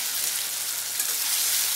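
Ground onion, garlic and spice paste with turmeric frying in a pan, giving an even, loud, hissing sizzle that stays dense and unbroken throughout.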